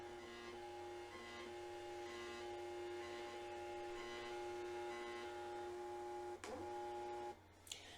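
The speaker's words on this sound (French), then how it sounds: "Et normalement, vous allez entendre le bruit de l'imprimante." Inkjet printer printing a page, a steady, faint mechanical whir and hum holding at a constant pitch, then a brief sliding mechanical sweep and a click near the end.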